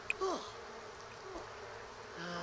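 A beekeeper works among bees whose steady buzzing hum runs through the moment, with a short rising chirp early on and a slightly louder drone toward the end.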